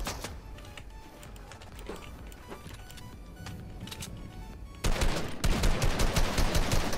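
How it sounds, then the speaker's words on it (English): Rapid gunfire in a shooter video game, a faint crackle of shots that bursts much louder and denser toward the end. "somebody's shooting me"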